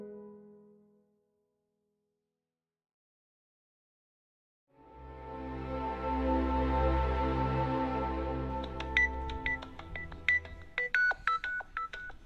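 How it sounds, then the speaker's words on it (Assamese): A telephone is dialed: after a swelling tonal sound, a quick series of short keypad beeps follows, close and clear. "মই কাষতিলৈ ফোন এটা কৰি দিওঁ ৰ'বা"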